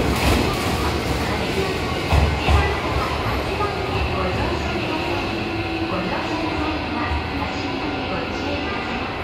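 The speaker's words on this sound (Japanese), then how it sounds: "4番線に5700系の回送列車が入線してきました。" A Hanshin 5700 series electric train rumbles into a platform, a low steady roar with rail clatter that gradually fades as it slows, while someone talks over it.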